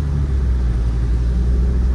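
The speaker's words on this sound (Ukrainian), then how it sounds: "Авто на високих обертах" A Jeep Grand Cherokee 2.7 with a straight-through exhaust holds at high revs, heard from inside the cabin with one window open, a steady loud low rumble that barely changes throughout.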